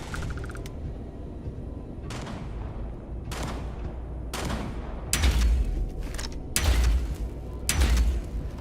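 Gunfire in the video game Starfield: a run of sharp, loud shots and bursts coming in irregular clusters over steady background game noise, with the heaviest blasts near the end.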